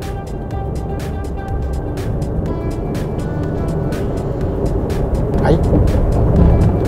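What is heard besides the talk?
Nissan Serena car driving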